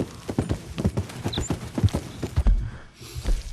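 Horse hooves clip-clop in a steady, close rhythm during a long ride in the video game Red Dead Redemption 2, loud and fairly even with no talk over them.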